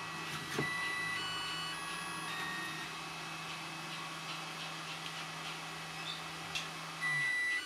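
Makita 40v battery charger powering up, playing its short electronic start-up tune: thin high beeping tones over a steady fan hum and a low drone, close, with no talking.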